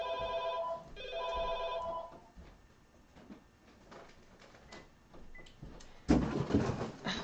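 A telephone rings indoors, with two clear trilling bursts at the start, then stops after a handset is picked up and hung up. A clatter and rustling from the handling follow, and no one speaks.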